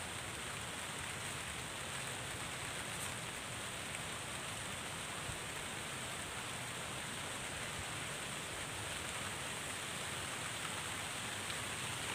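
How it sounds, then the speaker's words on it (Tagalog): Steady, fairly soft rain falls continuously near a garden patch of sponge gourd, an even hiss with no voices or other sounds. "Ayan na yung ulan."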